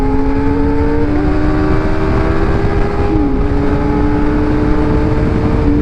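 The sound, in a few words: motorcycle engine revving at high rpm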